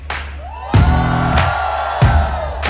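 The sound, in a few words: audience applause and cheering for panel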